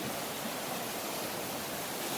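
A big, dirty river flows steadily, a soft even rushing wash of water with no breaks, heard faintly from nearby.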